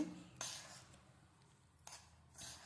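A metal kadai clinks as it is set down onto a cloth while ravva laddu is being made, giving a few faint, quiet metallic knocks and rattles spaced apart with no talking.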